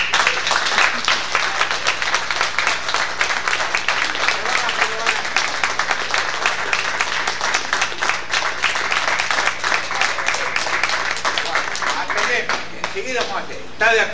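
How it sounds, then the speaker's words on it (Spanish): Members at a meeting of an athletic club break into sustained, steady applause that carries on for many seconds, with voices mixed in toward the end. "Vamos a pegar un aplauso para que se vaya"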